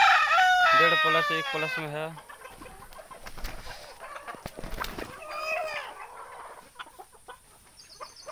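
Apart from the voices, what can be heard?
desi chickens clucking, rooster crowing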